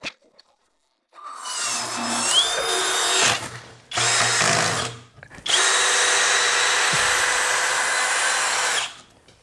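A Skil 3080 electric screwdriver whirs close and loud in three bursts separated by short pauses, with the last run the longest and steadiest.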